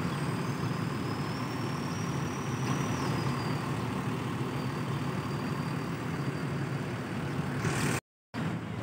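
Sembodo long-distance sleeper bus passing on a road in the early morning, a steady low engine and road rumble at moderate distance, with a thin high whine drifting across the middle.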